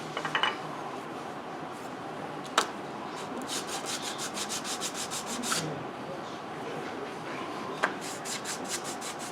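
Rhythmic back-and-forth sanding of wood by hand, steady scratchy strokes close by, with a few sharp taps in between.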